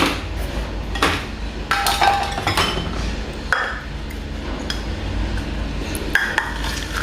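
Raw almonds pour into a measuring cup, a run of hard, clattering clinks and rattles that come in bursts and pauses, close and fairly loud, with no voices.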